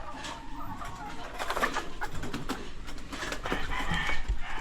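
Live chickens being carried off for delivery give soft clucks and coos amid rustling and background noise, with faint voices now and then.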